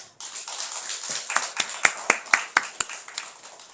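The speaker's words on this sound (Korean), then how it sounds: "뒤로 돌아서 인사하실 때 큰 박수로 환영해 주시기" A church congregation gives applause as members who finished reading through the Bible come forward for recognition. Several sharp, spaced claps stand out over a softer background of clapping.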